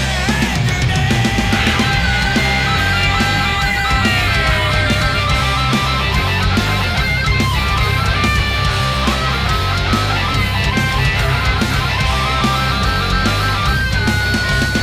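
A live band plays loud and dense, with a sustained electric guitar solo of bending, singing lead lines riding over full drums and bass, continuous and unbroken for the whole stretch.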